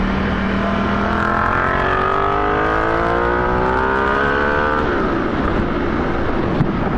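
A Ducati Diavel motorcycle with a 14-tooth front sprocket accelerates hard, its loud engine note climbing steeply in pitch through several seconds before a gear change drops it, over constant wind roar.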